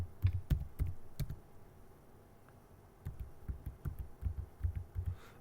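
Soft clicks of keys on a computer keyboard as a username is typed, a short burst of taps, a pause, then a steadier run of light, close keystrokes with no talking.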